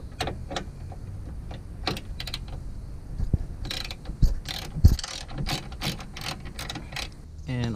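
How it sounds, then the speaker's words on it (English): Ratcheting wrench backing out 10 mm upper radiator bracket bolts on a Saturn S-Series, a rapid run of close, dry mechanical clicks in bursts with a few louder knocks of the tool against metal. "Ratcheting wrench makes easy work of this."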